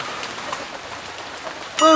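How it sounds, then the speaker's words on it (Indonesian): Rain falls outdoors as a steady hiss of drops, with a brief voice cutting in at the very end. "Oh, hujan."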